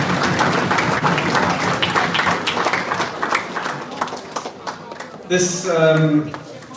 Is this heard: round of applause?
yes